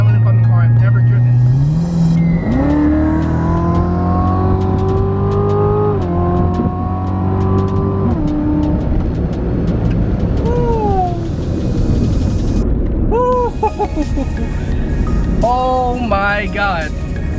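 A 2018 Chevrolet Corvette C7 Z06 accelerates hard, its engine climbing through gears in loud rising sweeps with brief drops at each shift. Later the engine quiets and tire squeals or chirps come in.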